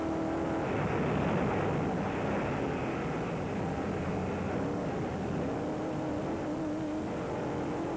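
Rally car engine heard from inside the cockpit during the Toyota Dealer 1000 endurance race in 2005, a steady loud drone that holds throughout with no speech.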